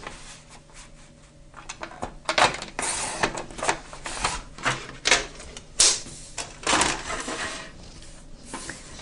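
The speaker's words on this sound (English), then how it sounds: "if I bring my paper trimmer back in, position this at 10 inches and trim off the excess that we don't require." A paper trimmer slices off excess paper at close range, producing a run of loud, clattering strokes and scraping rasps that repeat unevenly over several seconds, with no voices.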